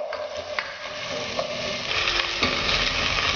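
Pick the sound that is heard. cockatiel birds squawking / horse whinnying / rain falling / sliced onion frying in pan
sliced onion frying in pan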